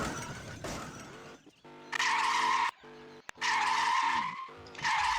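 A car engine revs hard as tires screech and skid on a test track, broken by sharp cuts and an abrupt impact-like burst midway as the car hits an obstacle ramp.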